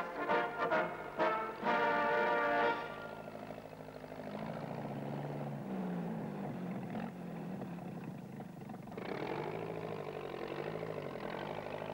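A military helicopter's engine drones steadily at moderate distance, with a louder tonal whine at the start before settling into a sustained running hum.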